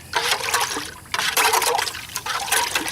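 Water is poured for a concrete resurfacing mix, heard as close, splashy bursts of pouring liquid with brief pauses between them.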